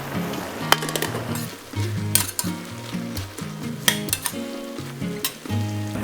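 Braised gluten (kao fu) for Four Joys kao fu is stir-fried in a pan: loud continuous sizzling with repeated spatula scrapes and metallic clinks against the pan, over soft background music.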